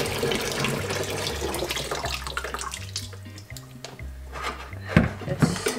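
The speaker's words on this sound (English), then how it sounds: "pour some of this water out." Hot water at about 100 degrees poured out of a container during home film developing, a steady splashing stream with a low hum underneath, ending in a few louder splashes.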